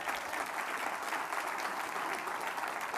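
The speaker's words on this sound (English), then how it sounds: "Give yourselves a nice round of applause." Steady applause from an audience, dense clapping holding at an even level throughout with no talking over it.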